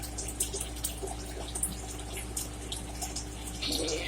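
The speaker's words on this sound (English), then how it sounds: "I'm going to go ahead and pour it in." A cup of liquid goes into a pot of Creole crawfish étouffée, a steady faint trickling pour with light dripping heard alone, without talk.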